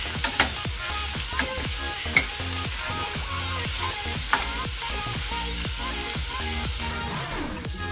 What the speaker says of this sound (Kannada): ಇವಾಗ ಈರುಳ್ಳಿ ಚೆನ್ನಾಗಿ ಫ್ರೈ ಆಗಿದೆ ಅಲ್ವಾ